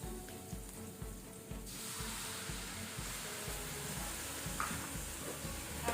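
Soy sauce poured into ginger and garlic frying in a pan for chilli garlic prawns, a steady close sizzle and hiss that swells to a broad roar and keeps on over a low rhythmic background hum.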